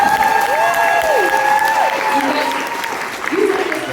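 Crowd applause at a book event in Washington Hall, Seattle, with whoops and whistles rising over the clapping, then thinning out toward the end.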